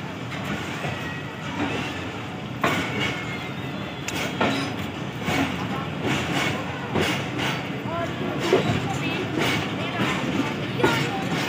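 Rhythmic clickety-clack of wheels over rail joints from a moving passenger train between Multan and Sanawan, with steady carriage rumble and occasional squeals, heard from inside alongside background chatter.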